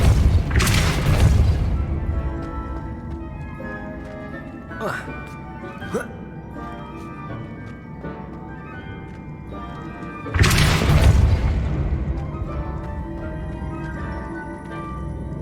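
In Hogwarts Legacy, two loud whooshing blasts from casting the Depulso spell land about ten seconds apart, each a burst that decays into ringing game tones, with talking between them.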